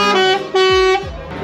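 Truck horns blast at a truck festival of show tractor units, two long loud tonal honks close by, the second cutting off sharply, with engine rumble and crowd noise around them.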